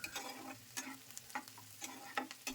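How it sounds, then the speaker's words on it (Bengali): Chopped onions frying lightly in a pan with green chilli, a steady sizzle broken by repeated scraping stirs of a spatula at an even rhythm, close and moderately loud with no talking. "এখন পেঁয়াজ কুচি হালকা করে ভেজে নেব।"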